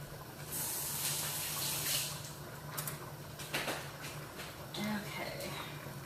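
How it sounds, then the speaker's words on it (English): Running tap water splashes over hands being rinsed in a kitchen sink, a steady hiss for a couple of seconds that trails into smaller drips and clinks, with a person speaking alongside. "let me rinse off my hands"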